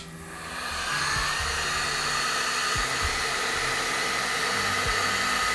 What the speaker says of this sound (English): I'm going to pull out the heat gun and begin drying it